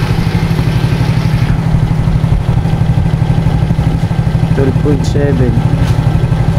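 A Suzuki Smash motorcycle engine idles steadily with a low, even mechanical pulse throughout, close by, while people talk over it and a brief higher tone chirps near the end.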